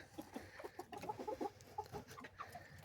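Hens clucking inside a pallet chicken coop, a busy run of soft, close clucks and murmurs in quick irregular bursts with no talking.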